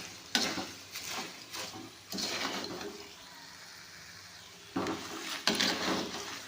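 Vegetables with green chillies frying in a pan, a steady soft sizzle broken by several scraping, clattering stirs of a spoon against the metal, fairly close and quiet.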